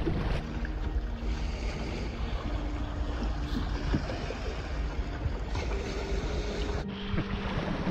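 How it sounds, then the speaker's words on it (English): Sailing dinghy cruising open water toward a lagoon entrance at Lady Musgrave Island on the Great Barrier Reef, with steady wind rush over the microphone and water washing along the hull throughout, no voices. "Just going to sail along and find the entrance into the lagoon"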